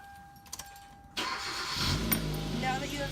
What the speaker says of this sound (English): Now that you have started the car